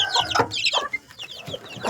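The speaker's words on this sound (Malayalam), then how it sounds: "കുറച്ച് കോഴിക്കുട്ടികൾ വിരിഞ്ഞിറങ്ങിയിട്ടുണ്ട്" Hens cluck nearby alongside a few newly hatched chicks, with repeated short, uneven clucks and higher chirps scattered across the moment, fairly loud and close, with no talking.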